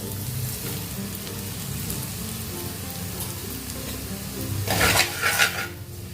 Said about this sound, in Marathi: ते परतून घेते मोकळा करून घ्यायचा कुठंही असा गुठळ्या वगैरे राहिल्या नाही पाहिजे